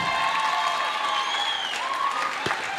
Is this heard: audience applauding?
yes